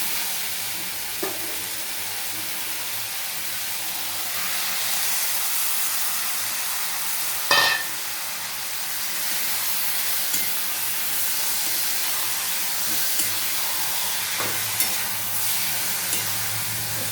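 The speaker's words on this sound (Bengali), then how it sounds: "ম্যারিনেট করা মাংসটা অ্যাড করে নিচ্ছি মাটন দিয়ে" Marinated mutton sizzles and fries steadily in a hot pan for a home-cooked Sunday meal, a continuous loud hiss with a sharper crackling burst partway through and occasional stirring clinks.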